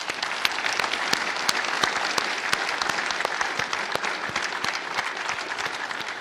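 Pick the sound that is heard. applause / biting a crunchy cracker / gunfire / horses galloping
applause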